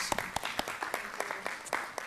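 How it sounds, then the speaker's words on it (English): Scattered clapping from a small audience at a council meeting, individual claps audible in an uneven patter rather than a dense roar, moderately close. "Let's do one more round of applause."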